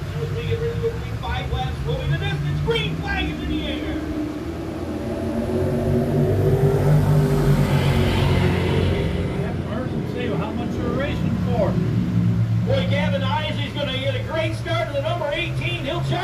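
Dirt-track race cars roar in a continuous engine drone, swelling louder mid-pass as they work the bottom of the track, with a crowd-like wash and a commentator talking over it throughout.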